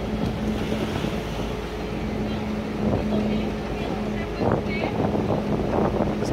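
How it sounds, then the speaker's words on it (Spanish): Strong ocean surf rumbles on the beach at Barra de Santiago, a continuous roar buffeted by wind across the microphone, with a brief faint voice and a steady engine-like hum underneath. "Está un poco fuerte el oleaje ahorita."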